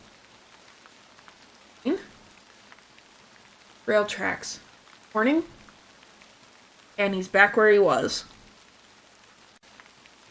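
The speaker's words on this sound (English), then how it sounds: "Rain fell in drops from the gray sky." Rain falling in the Hashihime of the Old Book Town video game, a faint, continuous patter in the background while a voice speaks in several short bursts.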